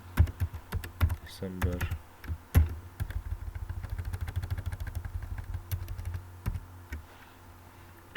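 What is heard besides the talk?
typing text on a computer keyboard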